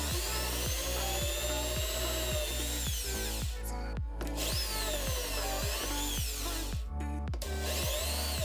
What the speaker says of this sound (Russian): В одном куске фанеры нужно проделать отверстие под клавишу и под разъем microUSB.